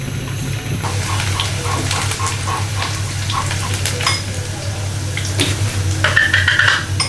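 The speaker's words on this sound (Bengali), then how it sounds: "ডাউল সুন্দর বলক এসে গেছে" Pots of dal and rice come to a boil on a home stove, giving a steady bubbling, sizzling churn with a low hum beneath and occasional clinks of a utensil against the pot.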